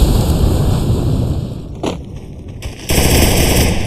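Rapid automatic gunfire rattles from a Free Fire match, loud and close, against a noisy outdoor game soundscape. There is a short lull, then the firing resumes in a dense burst.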